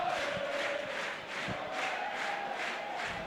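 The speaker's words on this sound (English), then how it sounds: "Crowd making themselves heard here at the Rizal Memorial Football Stadium." Football crowd at Rizal Memorial Football Stadium during the Philippines vs Tajikistan Asian Cup qualifier, a continuous roaring, chanting mass with rhythmic swells.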